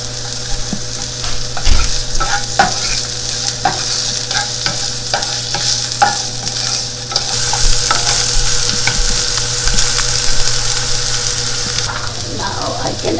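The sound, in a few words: sliced onions sautéing in a pan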